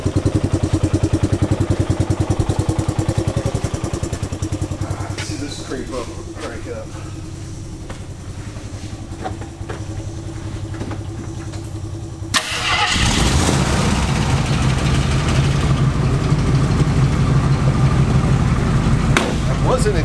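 Old three-wheeler engines, found alongside a Jeep Laredo, run and idle nearby with a loud, steady rapid chugging that dips quieter midway and then surges back up, while people talk over them.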